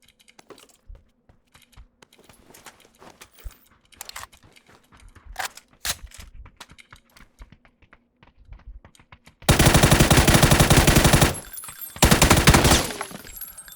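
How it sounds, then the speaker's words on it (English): Two long, loud bursts of close automatic rifle fire in PUBG, preceded by scattered distant shots, sharp cracks and keyboard-like clicking. "Last bullet there, holy Jesus"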